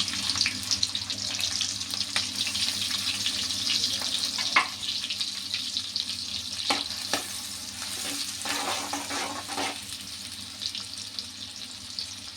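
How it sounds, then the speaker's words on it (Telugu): Two green chilies and two small onions go into a pan of cumin seeds frying in oil for a bottle gourd and drumstick milk curry. A loud, continuous sizzle is broken by a few clattering stir strokes, with no speech. "జీలకర్ర కొంచెం వేగిన తర్వాత 2 పచ్చిమిరకాయలు, 2 ఉల్లిపాయలు చిన్నవి అని చెప్పా కదండి, అవి కూడా వేస్తున్నానండి."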